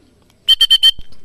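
Four quick, evenly spaced electronic beeps ring out loudly and close by at a racing pigeon club training in Cabanatuan, Nueva Ecija, followed by a soft thump, with near silence before and after.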